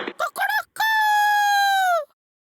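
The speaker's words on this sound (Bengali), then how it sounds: "এই নতুন মোরগটা আবার কি" A cartoon rooster crows once in a long, loud, steady cock-a-doodle-doo lasting over a second, after a short burst of animated voices and clucking-like sounds.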